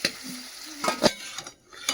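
Chicken pieces being stirred in a pan over low gas, a few short scraping and clinking strokes of a utensil against the pan over a faint sizzle, close up, no talk.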